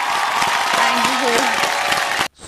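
Studio audience applauding for Rohini on the Telugu reality show Bigg Boss 8, a dense even burst of clapping with a voice briefly heard over it, cutting off abruptly near the end.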